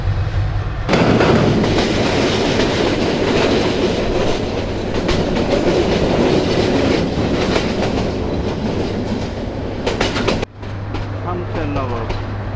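Paharika Express passenger train running on rails in Bangladesh, a loud steady rumble with rhythmic clickety-clack of wheels over joints, heard from inside a near-empty air-conditioned carriage, with a brief dip and louder burst near the end.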